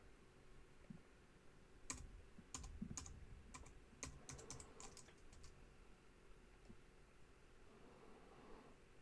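Quiet typing on a computer keyboard while working in a design program: a short run of sharp, irregular key clicks close by, clustered in the first half, then fading into low background hiss.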